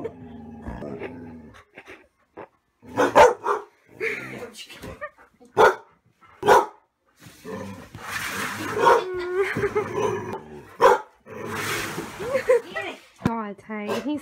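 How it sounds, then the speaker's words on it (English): A dog barks in scattered bursts and short series, some yips and whimpers, with people talking in between and over it. "God, Tay, he's still barking."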